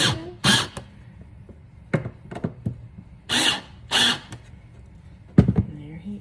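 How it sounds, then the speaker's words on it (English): Power driver driving screws into the backing board of a pelican mosaic, short separate whirring bursts with quiet gaps and small clicks between them, close by. "I'm gonna finish screwing these in"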